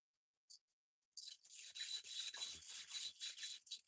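Wood being sanded by hand to smooth it, a quiet close rhythmic scratching with repeated strokes following a couple of faint taps.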